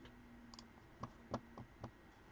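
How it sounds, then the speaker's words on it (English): Faint clicks of computer keyboard typing, a few sparse keystrokes heard quietly against a low background hum. "Why do I hear typing?"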